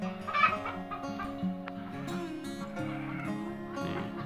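Several Kedu chickens cluck and murmur close by, soft overlapping calls with a few sharper notes, over faint background noise.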